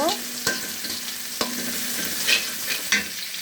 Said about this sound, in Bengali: এই যে পেঁয়াজ ভেজে নিচ্ছি